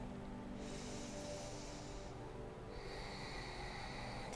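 Slow, controlled yoga breathing during a Sun Salutation practice: two long, soft, airy breaths, an inhale then an exhale with a short pause between, close and quiet against a faint steady background hum.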